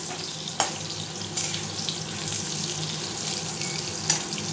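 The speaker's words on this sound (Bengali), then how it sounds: "আমি আলুগুলো ছেড়ে দিচ্ছি। আলুগুলো একটু লাল লাল করে ভেজে নেব।" Potatoes frying in oil in a wok, a steady close sizzle with a few sharp clinks of the spatula stirring through it, no voices.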